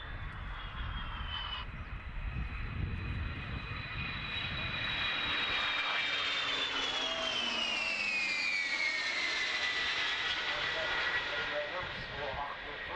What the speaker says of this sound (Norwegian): Som svinger Forsvarets DHC-6 Twin Otter. Han skal fly et show for oss.